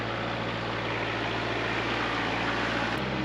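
A tractor engine runs at a steady idle, a loud, unbroken low drone that shifts slightly near the end, with no voices.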